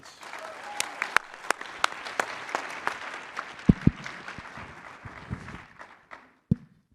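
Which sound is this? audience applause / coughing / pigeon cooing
audience applause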